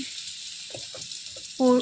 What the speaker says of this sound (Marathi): थोडीशी मोहरी तडतडू देऊया